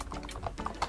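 Wireless UHURU keyboard with built-in wrist rest being typed on in a quick click test, producing soft, quiet, rapid key taps close up with no talking.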